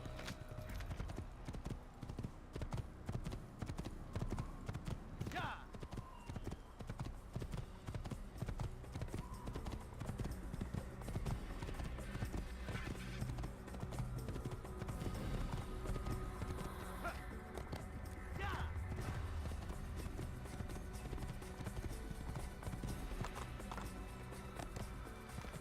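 Rapid, continuous hoofbeats of a galloping horse in Assassin's Creed throughout, with occasional snorts or whinnies over a steady, busy background.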